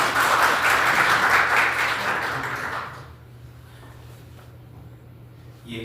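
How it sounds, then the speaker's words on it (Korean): An audience applauds at a multicultural committee launch ceremony held in a seminar room at the National Assembly members' office building in Korea. The clapping is dense and steady for about three seconds, then fades into quiet room tone. "큰 박수 부탁드립니다."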